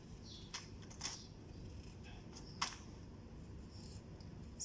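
A blade slices through a fleshy aloe vera leaf, leaving a few sharp crisp cuts over quiet background hiss.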